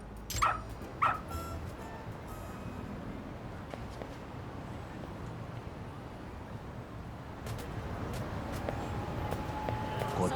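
A dog named Ranpo in the video game Lost Judgment gives a couple of sharp barks near the start, then a steady wash of game ambience and footsteps follows.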